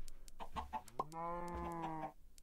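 Chickens clucking in Minecraft, a few short clucks followed by a longer sustained cackle, fairly close and clear with no talk over it.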